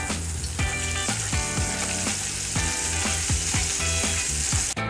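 Salmon skin frying in a pan while being basted with butter and dry milk powder: a steady close sizzle broken by repeated rhythmic spoon scrapes and splashes.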